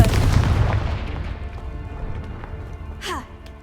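A Confringo blasting spell in Hogwarts Legacy lands as a loud, low burst at the start and fades into a decaying rumble, with a brief whooshing sweep near the end.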